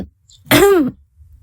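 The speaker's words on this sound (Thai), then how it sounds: "กระแอมไปแล้วก็เงียบไปไม่พูดอะไรเป็นเวลานาน" A man clears his throat once, a short, rough, close rasp lasting about half a second between silences.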